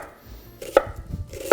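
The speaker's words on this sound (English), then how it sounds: "Then part of the remaining onion from before is chopped up as a garnish." Onion being chopped for a garnish on a cutting board, a couple of crisp knife strikes with a faint rustle between them, close and brief.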